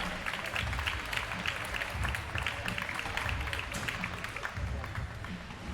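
Continuous applause and crowd noise at an amateur scooter riding final, fairly distant clapping mixed with indistinct crowd voices throughout.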